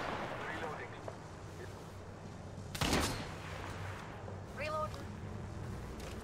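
A single loud gunshot from a long-range weapon in the battle royale game Apex Legends rings out mid-clip amid steady game ambience, with a fainter, shorter report following a couple of seconds later.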